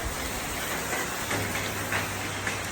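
Steady rain hisses continuously, with faint scattered drops and a low rumble underneath.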